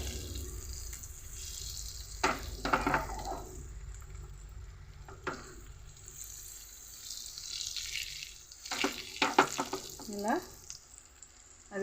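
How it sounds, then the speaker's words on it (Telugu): Stuffed egg balls fry in a pan for egg gravy curry with a low bubbling sizzle, broken by bursts of spattering and clinks as they are turned, at moderate volume. "ఫ్రై అవుతున్నాయి కదా అలా కొద్దిసేపు అలా ఉంచుదామండి"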